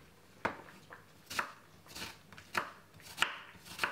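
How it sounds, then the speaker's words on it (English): A knife chops a white onion on a board in six or seven crisp, evenly spaced strokes, close and clear, with no talking. "Take a little time and cut up the white onion."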